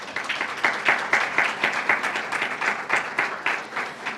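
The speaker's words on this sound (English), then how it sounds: "Please, a round of applause." Lively applause from a conference audience, with distinct claps pulsing in loose bursts, moderately loud and close, with no talk over it.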